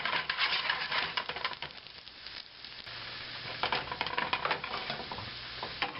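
Potatoes frying and browning in a pan for a breakfast dish, a steady close sizzle with crackling pops and spatter running throughout, swelling and easing slightly, with no talking.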